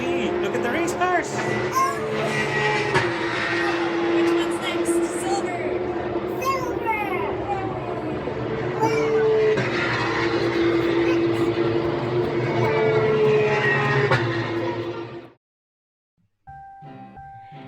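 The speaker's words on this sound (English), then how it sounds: "We could also see the Porsche Cup cars doing their qualifying race." Porsche Cup race cars run qualifying at the Suzuka circuit in Japan, their engines droning steadily in the distance. Children and adults chatter over the noise, and the sound cuts off abruptly near the end.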